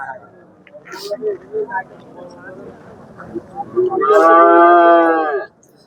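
People talk briefly at a livestock market, then a cow lets out a loud, drawn-out moo nearby that ends abruptly.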